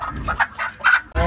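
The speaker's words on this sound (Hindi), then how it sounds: "ये वाइट मुर्गी, ये ब्लैक मुर्गी रास्ते पे बैठी हुई है" Hens on a road, one white and one black, give soft intermittent clucks, close by, with some background noise and a brief low thump at the end.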